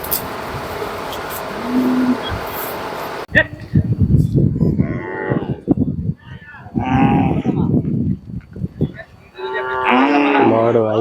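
Cattle low repeatedly at the crowded Kannapuram cattle market, loud drawn-out moos rising one after another amid a busy outdoor din, with people talking nearby.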